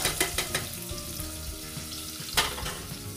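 Dal sizzles and fries in a pan inside a pressure cooker while it is stirred until brown. Steady crackling runs throughout, with a few sharp scraping stir clicks, near and moderately loud, and no voices.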